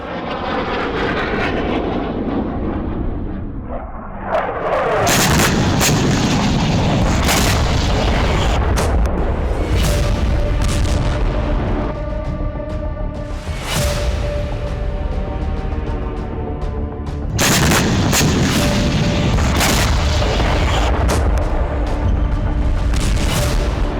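A missile launched from Dera Ghazi Khan comes down near a Levies station in Dera Bugti. Loud, booming roars and heavy rumbling blasts fill the scene repeatedly, with sharp cracks and a jet-like roar between them.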